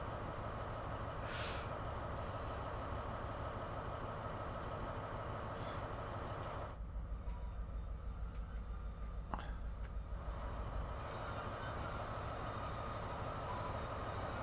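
A train stands in a station platform in Train Sim World 4 on the West Cornwall line, a steady low diesel rumble and hum with a faint high whine, continuous and fairly distant, without talk.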